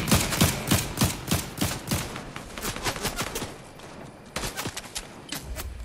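Video game gunfire: loud volleys of repeated shots, close and crackling, arriving in irregular bursts with brief lulls and a renewed burst near the end.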